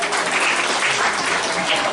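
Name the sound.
audience applause at school year-end festivities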